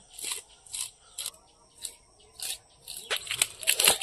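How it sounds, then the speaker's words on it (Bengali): Rhythmic scraping strokes of a potato peeler scaling a large katla fish, about seven rasping bursts at a steady pace, close and fairly loud, getting quicker and denser toward the end. "এই আলু ছালি দিয়েই মাছটা আঁশ তুলে নিচ্ছি"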